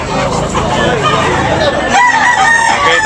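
Roosters crowing loudly at close range at a gamefowl sale, with calls overlapping and clucking alongside as voices murmur in the background.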